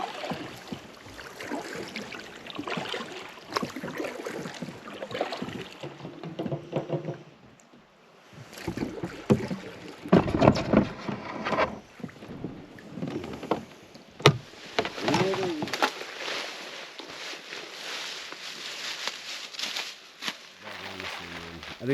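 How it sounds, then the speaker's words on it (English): A boat engine drones steadily with water churning and wind buffeting as the boat pulls slowly into a swamp boat launch, ending in quieter idling. "here's us pulling into the boat launch."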